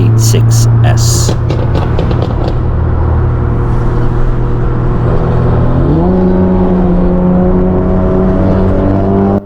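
Extensively modified exhaust on a BMW F30 or a Porsche Boxster 987S, a loud, close rumbling drone that climbs in pitch partway through as the engine revs, with sharp pops at the start.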